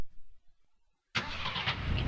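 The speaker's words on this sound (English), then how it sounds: "He starts up the car" A car engine cranks and catches after a near-silent pause, then settles into a loud, steady idle that rumbles to the end.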